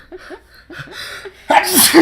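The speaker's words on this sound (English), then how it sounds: "I'm going to sneeze." A short gasping intake of breath leads into one loud, sharp sneeze at close range.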